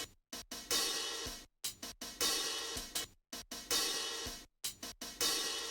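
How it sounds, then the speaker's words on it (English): Two hi-hat loops chopped into a stuttering pattern, dense bright ticks and shimmer cut by abrupt gaps, repeating in a bouncy rhythm of short bursts and sudden silences, mid-level and alone. "For that, I used 2 different hi-hat loops and chopped them up."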